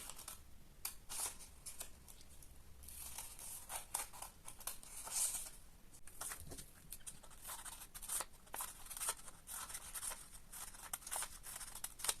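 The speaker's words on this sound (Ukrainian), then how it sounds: "Працюємо ножицями дуже обережно" Scissors cut straight strips of paper for a children's icicle paper appliqué, giving faint, quiet snips and rustles in an irregular rhythm with no talk.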